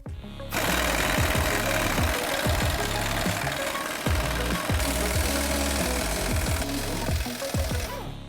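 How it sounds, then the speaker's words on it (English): Air impact gun hammers with a 21mm socket on a tie rod nut of a Jeep Wrangler JK, a loud, continuous rapid rattling burst that starts abruptly, runs for several seconds and fades out at the end. "We're going to use a 21mm socket on the top and then just loosen it up with an air gun."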